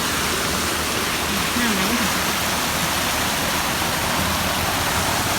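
Floodwater rushes over and out of a creek after a full day and night of heavy rain, a steady loud roar of churning water filling the scene without a break.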